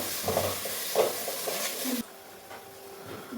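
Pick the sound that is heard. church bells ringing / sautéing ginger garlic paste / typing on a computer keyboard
sautéing ginger garlic paste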